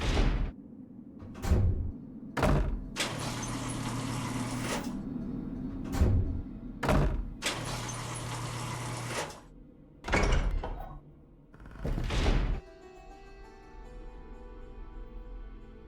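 Doors in the game Nancy Drew: The Curse of Blackmoor Manor thud, creak and slide open and shut repeatedly, several loud close knocks and rumbling movements in sequence, with no talk.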